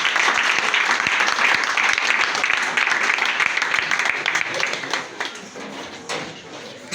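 A church congregation applauding during a worship service, a steady dense wash of clapping from many hands that holds loud and even before thinning slightly toward the end, with voices mixed in.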